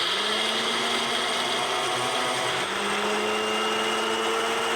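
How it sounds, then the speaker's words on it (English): A blender grinds dried herbs and salt into a fine powder for homemade herb salt. The motor whirs loud and steady without a break, and its pitch shifts slightly midway. "And blend it until it's a nice fine powder."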